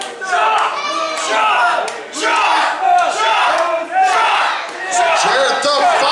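Wrestling crowd in the SCWPro game roaring and chanting in rhythmic surges, loud and close, with brief dips between waves of cheering and scattered claps.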